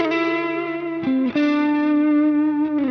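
A guitar through an amp plugin's overdrive setting plays a few sustained distorted notes and chords, with a slight pitch change and short pick attacks, clear and close with no talking.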